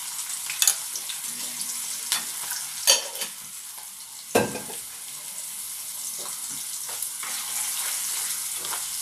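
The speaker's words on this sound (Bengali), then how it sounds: "ভীষণ তেলগুলো ছিটে আসছে গায়ে" Oil spitting and crackling in a hot frying pan during home cooking, a steady broadband sizzle broken by sharp pops and splatters, one louder burst near the middle, with no talking.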